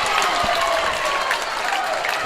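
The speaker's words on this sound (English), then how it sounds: "Werribee crowd starting to get behind their team here with a bit of noise" A home crowd at a junior under-14 basketball grand final in Werribee cheers and applauds in a continuous, fairly loud wash of noise, with scattered voices mixed in.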